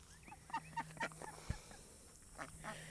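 Several short nasal quacks from ducks kept with chickens beside a North Texas garden come in scattered bursts against a steady low hum, with quieter calls trailing off toward the end.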